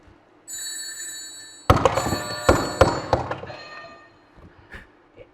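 Sonic video game sound effect of rings scattering after being hit by an enemy: a bright chiming tone followed by a burst of rapid metallic jingles that fade out over a few seconds.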